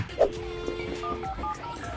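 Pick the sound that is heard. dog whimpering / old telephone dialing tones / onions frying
old telephone dialing tones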